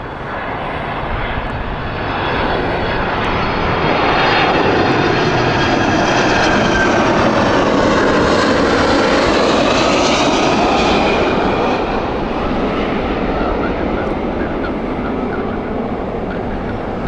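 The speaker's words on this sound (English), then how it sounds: "Delta inbound, this is the 767-400, beautiful aircraft." A Delta Boeing 767-400 jet arriving at Heathrow Airport on a sunny day, a loud, sustained engine roar and rushing whine swelling as it passes overhead, then easing slightly, with no talk.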